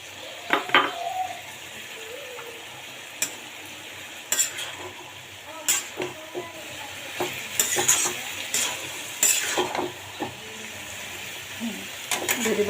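Tomatoes fry in a pan for a Bengali vegetarian dish, with a utensil stirring in irregular scraping and clinking strokes over a faint sizzle, close and alone without talk.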